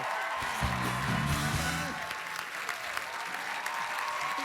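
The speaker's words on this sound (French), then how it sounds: "sous les applaudissements d'un public en délire" A studio audience at a Quebec evening variety show applauds enthusiastically, dense sustained clapping with a voice briefly over it early on.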